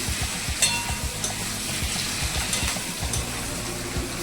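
Chopped onions and capsicum fry in a pan with a steady, close sizzle, broken by soft stirring scrapes and light clinks throughout.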